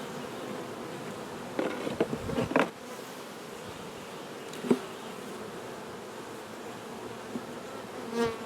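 Honey bees hum steadily around an opened, honey-bound double-deep eight-frame hive, with a continuous close buzz and a few louder bursts as individual bees fly past.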